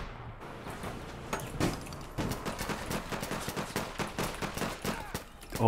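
Rapid bursts of small-arm fire from the peashooter gun in the online shooter APB Reloaded, a dense, steady string of close, sharp cracks running for several seconds with no talk over it.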